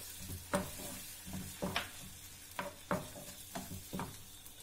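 Tomato puree sizzles softly with onions in a pan, for a cheesy garlic baked chicken with mushroom, while a spoon stirs and scrapes in a steady rhythm of about one stroke per half-second, fairly faint, with no talk.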